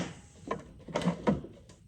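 A metal drawer on an old Craftsman four-drawer mechanics tool box slides and clunks, with several quick knocks and rattles close by.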